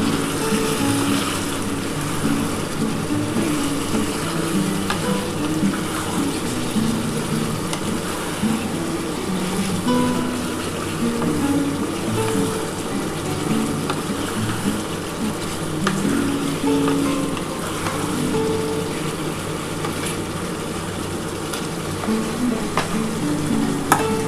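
Chicken cooked chilli-chicken style with a splash of soy sauce fries over high gas. It is stirred continuously, with a dense, steady sizzle and frequent scraping that carries on without a break.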